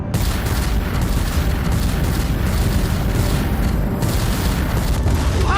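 Sustained barrage of weapons fire and booming blasts aimed at the Celestial in the Guardians of the Galaxy Telltale game, a dense, loud, continuous rumble of explosions with no clear gaps.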